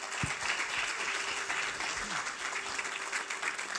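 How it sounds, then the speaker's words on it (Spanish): Church congregation applauding during a Spanish-language sermon, a dense even wash of clapping throughout at moderate volume, with a few faint low voices underneath. "Un aplauso a Dios."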